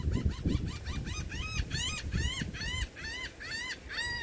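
Geese honk again and again, close and loud, in a quick run of nasal calls heard outdoors on a quiet Saturday morning walk, with low rumbling background beneath the flock.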